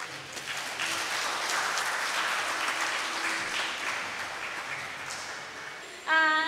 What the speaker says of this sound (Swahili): naombeni tuweze kumpigia makofi tena kwa nguvu na kishindo kwa presentation nzito aliweza kutoa